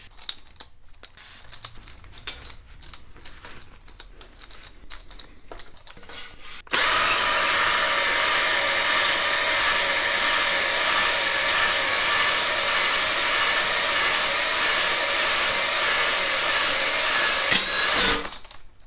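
A drill-driven hone deglazes an SBC 350 LT1 engine cylinder, starting with lighter scraping and then settling into a loud, steady grinding whir near the mic that runs for about eleven seconds before cutting off.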